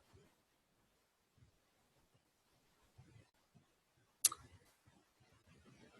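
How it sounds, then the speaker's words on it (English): A computer mouse clicks while a report is formatted in a database program: faint, sparse, close ticks spread unevenly across quiet, with one sharper, louder click near the end. "And they want us to click the column heading."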